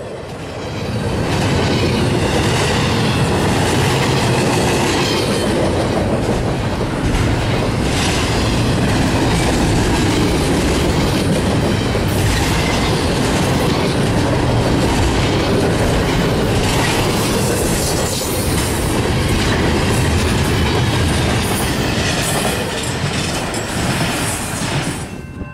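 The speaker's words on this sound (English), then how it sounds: "Last CSX train on the CSX Toledo subdivision" A CSX freight train passes close by on the Toledo subdivision, a loud continuous roar of wheels and rolling cars sustained for the whole span, with rhythmic rail clatter and faint squealing.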